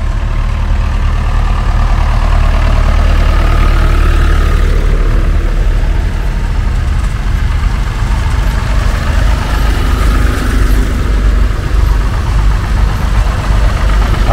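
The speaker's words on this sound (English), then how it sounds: "Yep, they're all coming now. Proper tractor rally." Vintage tractors, including a grey Ferguson, roll past during a charity tractor and classic car rally at Blarney Castle, Ireland. Their loud, close, continuous engine drone rises and falls gently as the machines go by, with no voices over it.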